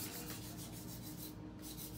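A nail file rasps repeatedly against a nail during a fall nail set, with quick, even back-and-forth strokes that are close and continuous with no talking.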